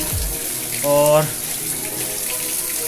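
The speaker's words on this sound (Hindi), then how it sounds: "यहाँ पे देखिए यहाँ पे जो है पानी अभी बरस रहा है, छत का गिर रहा है" Rainwater pouring off a roof after a downpour gives a constant watery hiss in the background, with a brief spoken word over it.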